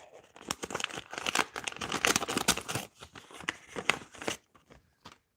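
A paper envelope being torn open and handled at a game night prize draw, with close crinkling and tearing rustles throughout, fairly quiet and unaccompanied by talk.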